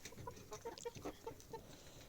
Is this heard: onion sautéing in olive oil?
no